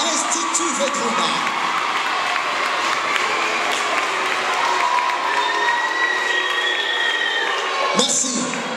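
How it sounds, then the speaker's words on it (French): Crowd cheering, whooping and applauding for the Institut Vedruna team at a debate contest, a dense, steady roar of claps and shouts held throughout, with a brief dip near the end before the noise returns. "On applaudit pendant que Vétrouna avance"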